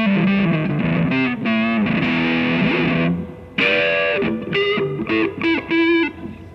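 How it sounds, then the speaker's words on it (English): Electric guitar played through a Dark Matter Audio DMA1 effects unit, heavily distorted sustained chords and bends ringing loud, then a pause and choppier stabbed phrases with gaps between them. "And you get a fantastic guitar sound."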